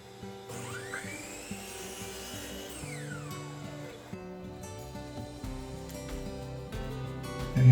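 Power tool cutting through the oak leg of a hundred-year-old milking stool at the shoulder, a whining buzz that rises and falls in pitch, close and steady with sharper bursts near the end.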